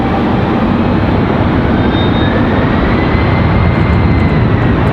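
An airplane lands at Raleigh Durham airport with a loud, broad roar of engines and rushing air that holds steady throughout, heard alone without talk.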